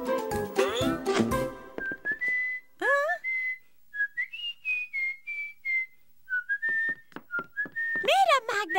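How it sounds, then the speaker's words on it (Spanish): Someone whistles a simple wandering tune, clear single notes with pauses between phrases, after a short burst of sound at the start. "No sé cantar, pero sé silbar."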